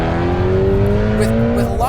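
Supercharged BMW M3 sedan engine revving loudly up through the range, a continuous rising tone with a throttle blip near the end, heard close and alone.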